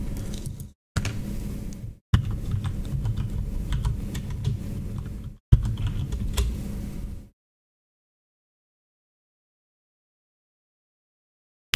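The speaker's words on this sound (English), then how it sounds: "Type as little as possible because my keyboard is loud." Loud computer keyboard typing in a quiet room, a steady dense clatter of keystrokes broken by brief pauses, then stopping into silence.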